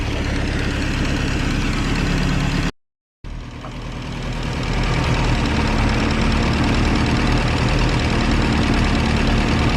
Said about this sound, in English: There's a definite misfire there.